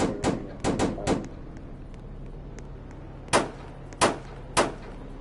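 M16 rifle fire in a video game: a quick cluster of sharp shots early on, then a quiet stretch, then three more spaced single cracks, fairly close and loud, with no talking.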